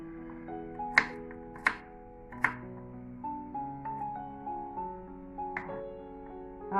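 A knife chops Chinese garlic on a cutting board for Bihun Mamak, an Indonesian noodle dish. A few sharp, distinct knocks are followed by a run of softer, evenly spaced cuts over a quiet tonal musical background.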